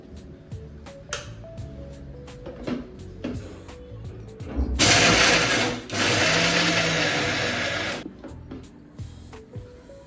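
A kitchen mixer grinds chilies, garlic and coriander into a coarse paste for stuffed eggplant, giving a loud whirring roar of about three seconds that cuts briefly and resumes, after some nearby clinking and handling noises.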